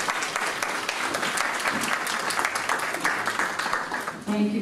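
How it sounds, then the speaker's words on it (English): Sustained crowd applause at a community gathering held at a mosque, honouring women of faith, dense and steady clapping throughout with a few voices mixed in near the end. "we'd like to give you a round of applause for everything that you're doing in the community"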